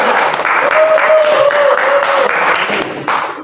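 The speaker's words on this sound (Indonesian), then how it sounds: "kita beri aplaus dulu untuk kelompok 3" A classroom of students applauds a presenting group in a lesson on artificial vegetative propagation, dense steady clapping from many hands at close range, loud and sustained before tapering slightly, with a faint voice tone underneath.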